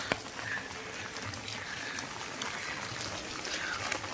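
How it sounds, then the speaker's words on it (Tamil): Heavy rain pours outdoors on an empty road while someone walks under an umbrella, a dense steady hiss of drops close by with no voices. "இங்கே பாருங்கள் மழை பயங்கரமாக பெய்யுது"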